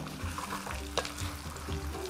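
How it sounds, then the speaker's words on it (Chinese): Fish pieces go back into a wok with dried fermented black beans, bay leaf, star anise and dried chilies, sizzling and frying steadily with a few scraping stirs and one sharp clatter, close and unaccompanied by talk. "鱼块回锅，"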